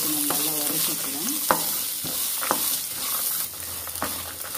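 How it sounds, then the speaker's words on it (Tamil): Chopped coconut and other ingredients sautéing in a pan for a Chettinad egg drop curry: a steady sizzle with repeated spatula scrapes and taps, close, with no talking. "எல்லாமே சேர்த்து நம்ம நல்லா வதக்கிக்கலாம்."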